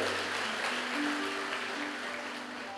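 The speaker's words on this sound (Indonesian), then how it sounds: "Tepuk tangan buat Tuhan Yesus." A church congregation claps loudly and continuously through a Sunday worship service, dense applause filling the room with faint music tones underneath.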